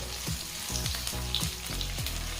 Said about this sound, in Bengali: এবারে পেঁয়াজ আর ক্যাপসিকাম এক মিনিট হালকা করে ভেজে নেব